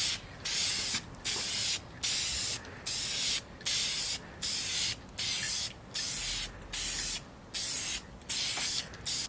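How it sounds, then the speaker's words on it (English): Spray paint can laying a gold coat onto car wheels, heard as a series of about a dozen steady hissing bursts, each roughly half a second long, separated by short pauses, close and alone without talk. "just spray on a light coat, let it dry,"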